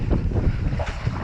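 Gusty wind buffets a microphone while kayaking along a reed-lined canal, a steady low roar with slight fluctuations and no other clear sounds.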